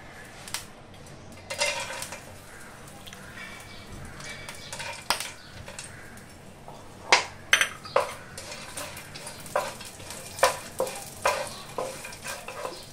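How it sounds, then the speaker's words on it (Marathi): Cashews, almonds and other dry fruits roast in a spoonful of ghee in a pan for rice kheer, a soft frying hiss broken by repeated scrapes and clinks of a spoon against the pan. "1 चमचा तूप टाकते पॅनमध्ये आणि हे ड्रायफ्रूट आपण तुपावर भाजून घेऊया"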